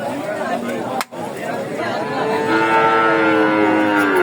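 A cow at a rural livestock market gives a long, loud moo in the second half, with crowd chatter and nearby voices underneath.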